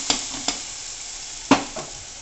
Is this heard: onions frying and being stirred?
yes